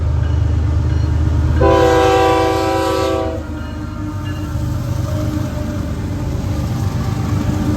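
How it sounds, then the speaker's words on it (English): A freight train rolls past at close range in Palmetto, Georgia with a heavy rumbling drone, and a loud multi-tone horn blast lasts about two seconds before the steady rolling noise continues alone. "This train had some weird little tanker"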